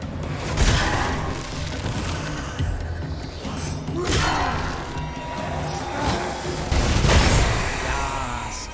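Booming explosions in a video game set in a lost temple, several heavy blasts standing out around a dense, constant rumble of in-game noise, loud and close.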